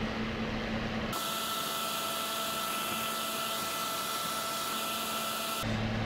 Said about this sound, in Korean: 아직까지는 그냥 일반 선풍기 바람이에요.